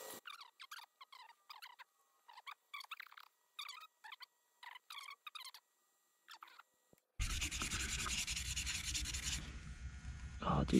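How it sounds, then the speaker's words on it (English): Steady abrasive rubbing of 600-grit sandpaper on an epoxy shift knob, continuous and close, starting after a stretch of quiet scratchy strokes and growing slightly louder toward the end. "he's sanding with, what is that, 600?"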